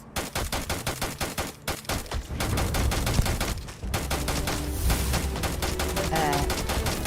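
Rapid bursts of gunfire from the space RPG Starfield, a dense run of sharp repeated shots at the start giving way to sustained heavy firing and clatter, loud and close, with no speech over it.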